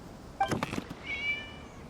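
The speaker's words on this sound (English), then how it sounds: "It was just a cat." A short in-game cat meow from Genshin Impact, clear and close, followed by a second drawn-out higher mew over a quiet background hum.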